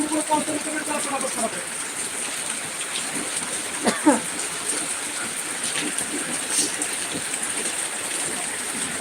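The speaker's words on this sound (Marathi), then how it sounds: "आम्हाला खूप पाऊस चालू आहे सगळा भरपूर पाऊस चालू आहे" Heavy rain pours down in a dense, unbroken hiss, steady and enveloping, with occasional sharper splashes standing out from the constant wash.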